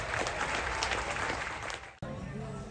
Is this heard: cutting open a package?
no